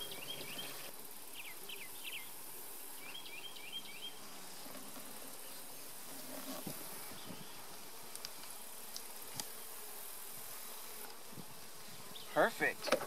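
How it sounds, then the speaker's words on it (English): Honey bees buzz steadily around an open hive that has beetle traps in it, a continuous close hum lasting throughout, with a few louder passes by individual bees near the end. "Bees are being really good right now."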